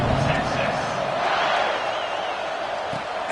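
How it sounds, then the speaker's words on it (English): A college football stadium crowd buzzes after a score in a Cal Golden Bears game, a loud, continuous roar of massed voices with scattered cheers and a broadcaster talking over it. "this crowd is buzzing after that last score"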